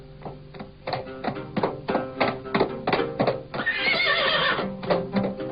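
A horse lets out a loud, close neigh near the end, following a run of regular, heavy hoof thuds at a steady trotting rhythm.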